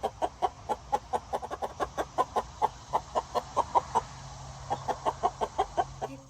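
A young backyard rooster, distressed in a crate, lets out a rapid run of about thirty sharp, close clucks and squawks in steady succession, loud and alone with no talk.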